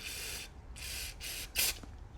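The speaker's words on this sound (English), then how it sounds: "I'll spray every orifice I can to try to get stuff out." Carburetor cleaner sprayed into the orifices of a clogged carburetor: four short hissing bursts from an aerosol can, with the last burst louder and sharper, close and quiet otherwise.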